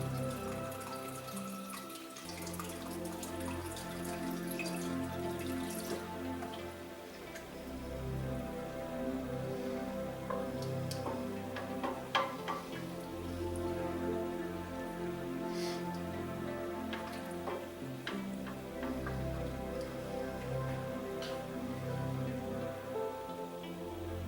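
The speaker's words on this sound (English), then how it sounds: "we got a little simmer going on here" White bean chili with chicken simmering in a pot, a steady bubbling and hissing that runs continuously and fairly loud throughout, with faint clinks now and then.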